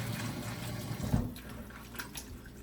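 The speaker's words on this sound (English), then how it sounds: "now we're gonna wash this pumpkin off. Right, rinse it off." A pumpkin is rinsed under a running tap, a steady close wash of water with a brief louder splash midway as it shifts under the stream, then a softer trickle.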